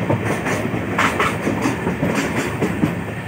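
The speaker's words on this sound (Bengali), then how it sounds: "ট্রেন তাড়াতাড়ি ছেড়ে দিচ্ছে" A passenger train on the long run from Kolkata to Sairang rolls along the rails, heard from inside as a loud, continuous rumble with a steady clickety-clack rhythm and no talking.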